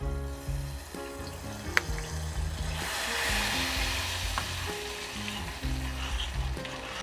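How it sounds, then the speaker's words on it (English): Coconut oil and peanut butter are stirred in a pan, a soft sizzling, bubbling hiss with scraping and tapping from the spoon, steady and close throughout. "We're just going to stir this around so it mixes up."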